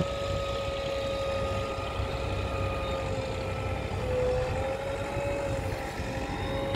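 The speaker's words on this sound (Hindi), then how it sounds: "देखो कितनी स्पीड में रही जेसीबी।" A JCB backhoe loader's engine runs steadily at a village colony site, a continuous mechanical drone with a sustained whine, fairly loud and unbroken, with no talk over it.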